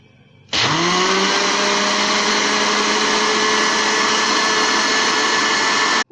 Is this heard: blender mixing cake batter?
yes